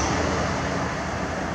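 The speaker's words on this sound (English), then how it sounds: "sorry about the train" A passing train rumbles steadily as a broad, continuous roar outdoors, fairly loud and unbroken throughout, with no speech over it.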